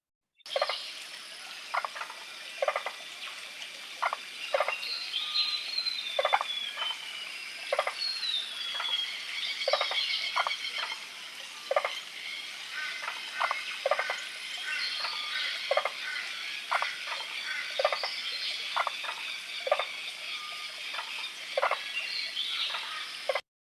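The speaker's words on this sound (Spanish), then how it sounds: "aquí en este ejemplo escuchamos con facilidad esas ranas, ¿verdad? Los pájaros, hay como unos insectos" A lively outdoor chorus: frogs croak in a steady pulsing rhythm while birds whistle and chirp above, with a faint insect buzz underneath, no voices.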